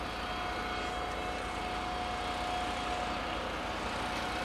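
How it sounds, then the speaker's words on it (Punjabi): A distant propeller crop-spraying airplane drones steadily overhead, a constant engine hum with a faint steady whine, no speech. "ਇਦਾਂ ਜਹਾਜ਼ ਨਾਲ ਹੀ ਛਿੱਟਾ ਦੇ ਦਿੰਦੇ ਆ ਉਹ ਵਰਦਾ ਜਹਾਜ਼"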